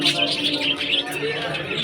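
Birds chirp near a church in Puthanpally, bright overlapping tweets and calls in a steady chorus, fairly close and lively over a faint background hum.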